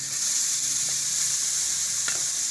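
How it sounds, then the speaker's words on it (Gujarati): Grated carrots for carrot halwa sizzle in ghee in a pan, a steady close frying hiss with faint stirring scrapes and no voices. "તો પહેલાં આપણે એમાં થોડું ઘી નાખશું હવે આપણે એમાં ગાજર નાખી"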